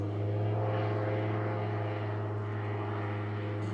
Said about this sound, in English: there goes the plane back up. They just touch just for a minute on the water and then they go back up